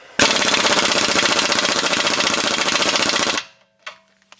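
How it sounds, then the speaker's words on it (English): A rapid, continuous loud rattling hammering, like an air hammer, runs for about three seconds on a 2001 Buick lateral link ball joint, then stops, followed by a couple of faint metallic taps. "let's go ahead and try to knock this the ball joint end out"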